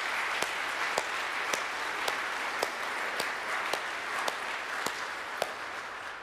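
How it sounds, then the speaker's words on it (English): A church congregation at Sunday Mass claps for the altar servers and choir, a soft, sustained patter of applause filling a large room, punctuated by a few sharp, evenly spaced louder claps from someone close by. "How about a big round of applause for everybody?"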